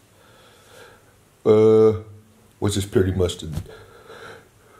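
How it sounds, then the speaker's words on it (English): A tired basketball player on a road game day in Italy gives a loud, drawn-out yawn, followed by a few spoken words with breathy, yawning tones. "As you can see from the yawn, I'm a little tired."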